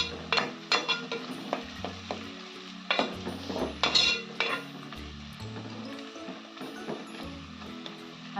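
Onions frying in a pan for prawn biryani, with sharp scraping stir strokes and clinks in an irregular rhythm over a soft background sizzle, close and moderately loud, no talking.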